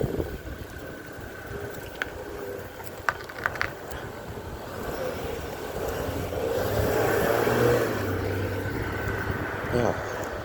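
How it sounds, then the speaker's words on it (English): A car arriving outdoors, its engine rumble and tire noise building to a peak and then easing off as it pulls in, under steady background noise with a few faint clicks. "Car coming in."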